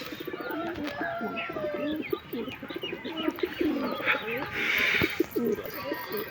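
Pigeons in a home loft, including Lalmohan pigeons, coo in repeated throaty rolling phrases, close and clear, with a voice talking over them at the same time.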